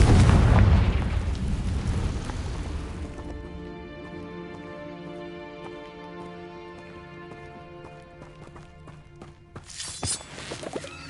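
A Confringo blasting spell explodes in Hogwarts Legacy with a loud boom at the start. Ringing, musical game ambience follows as the blast fades, and another sharp burst comes near the end.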